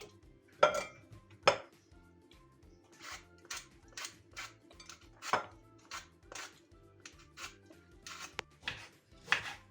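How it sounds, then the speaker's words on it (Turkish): A knife dices quince into cubes on a cutting board in irregular, crisp taps, some sharper than others, with faint clinks in a quiet room. "Bütün ayvalarımı küp küp doğruyorum bu şekilde."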